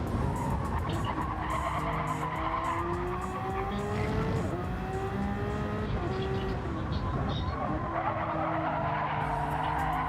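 Group 1 and LMP race cars roar around Watkins Glen in a racing video game, several engines whining and shifting pitch continuously as they pass, with tire squeal mixed in at steady moderate volume.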